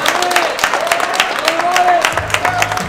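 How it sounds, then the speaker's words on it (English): An audience at a sneaker event claps and cheers in scattered, irregular bursts, with a voice talking over the applause throughout. "Clap it up for my guy K."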